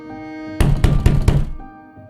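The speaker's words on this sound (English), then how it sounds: "Another knock, louder." Three or four heavy, sharp knocks pound on a wooden door in quick succession, louder and more urgent than before, standing alone against a faint steady background hum.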